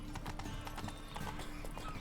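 Horse hooves clip-clop steadily in a video game, a fast even rhythm of close, moderately loud hoofbeats with no talking over them.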